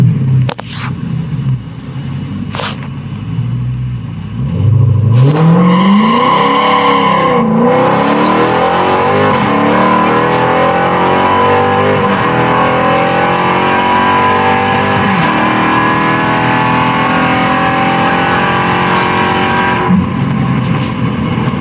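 A Dodge Hellcat with Cornerstone race pipes and its catalytic converters deleted, on a test run: a low rumble gives way to a loud, sustained engine roar as it revs and accelerates hard, close by and continuous for most of the run.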